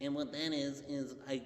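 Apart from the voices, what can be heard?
None of the usual background noises is heard.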